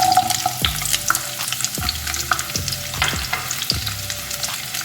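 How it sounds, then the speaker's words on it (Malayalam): Onions sautéing in coconut oil in a pan, a steady close sizzle and frying hiss broken by several sharp scraping stirs of a spoon against the pan. "ഞാനപ്പോൾ ഒരു പാൻ വെച്ചിട്ടുണ്ട്, അതിലോട്ട് കുറച്ച് വെളിച്ചെണ്ണ ഒഴിച്ചിട്ടുണ്ട്. അപ്പം ഞാനിതിലോട്ട് കടുക് പൊട്ടിക്കുന്നില്ല. അപ്പോൾ ആദ്യം ഞാൻ ഈ ഉള്ളി ഒന്ന് ഉലത്തിയെടുക്കുക"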